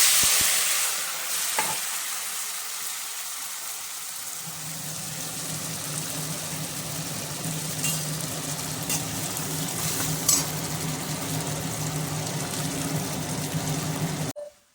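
Dried prawns fry in hot oil with a dense, continuous sizzle that swells once they hit the pan, joined by occasional stirring clinks and scrapes. The sound is close and fairly loud, with no speech.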